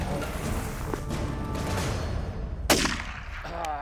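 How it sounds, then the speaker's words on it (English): Single sharp gunshot from a hunting rifle during a hunt, standing out briefly and fairly close over quiet outdoor background noise. "so that's when I pulled the trigger and shot him, took him down."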